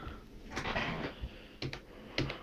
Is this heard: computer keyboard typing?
yes